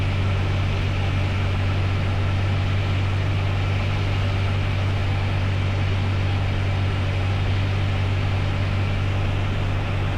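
A Beech Sundowner light aircraft flies in the landing pattern at Charleston Executive Airport, its engine droning loud and steady in the cabin for ten seconds with a strong low hum and broadband roar; no talking.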